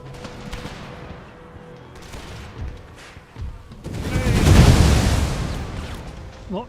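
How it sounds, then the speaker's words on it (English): Musket volleys and artillery bombardment in the Empire: Total War battle game, a rumbling fusillade building to a loud, dense burst of crackling fire and booms near the middle, with scattered quieter shots around it. "a few more volleys coming in"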